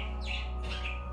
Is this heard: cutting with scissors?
no